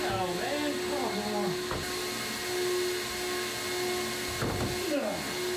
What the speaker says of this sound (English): And then I could turn on the vacuum table